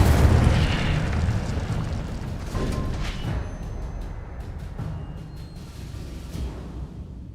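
Incendio fire spell in the Hogwarts Legacy video game, a loud roaring burst that fades gradually, followed by scattered crackling pops and swishes with no voices.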